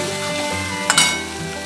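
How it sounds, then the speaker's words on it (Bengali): Spice paste frying in oil for a spinach curry with potato, radish and aubergine, a steady close sizzle with stirring, and a brief louder burst of spatter midway. "দিয়ে এটাকে যতক্ষণ না মশলাটা তেল ছাড়ে ততক্ষণ আমি ভাজতে থাকবো"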